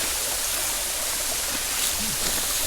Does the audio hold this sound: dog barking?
no